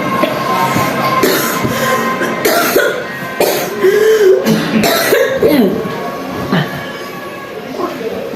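Several harsh coughing bursts, separated by short pauses, rise over a steady rumble with murmured voices in the background.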